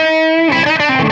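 A Les Paul electric guitar played through a Blues Driver overdrive pedal: a sustained held note rings out, then a fresh strummed chord breaks up with mild gritty overdrive, loud and close.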